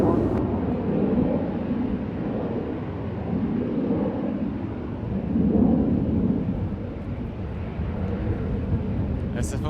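Airliner engines roaring during a go-around at San Francisco International Airport, a loud, steady low rumble that swells and fades in waves over nearly ten seconds.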